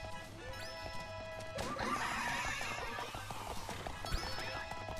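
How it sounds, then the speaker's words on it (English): A horse in the online battle game Happy Wars whinnies twice and clip-clops across the ground, its neighs sharp and close, with a crashing impact in the middle and soft game background sounds. "gonna ride a horse across the map"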